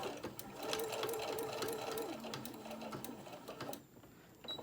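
A sewing machine stitches a small tote bag with pockets, giving a quick rhythmic mechanical whirr and clatter that runs steadily for a few seconds and then stops, recorded fairly quietly.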